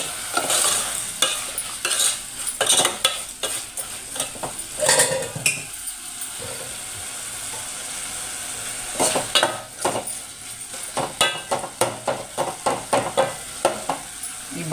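A spoon stirs and scrapes through egg curry in a pan after turmeric and salt go in, with steady sizzling frying and irregular clinks against the metal. The clatter is close and comes in bursts with short pauses.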